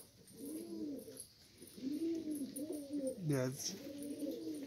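Several pigeons coo in soft, rolling, repeated phrases close by, with one sharper rising call in the middle; someone speaks briefly over them.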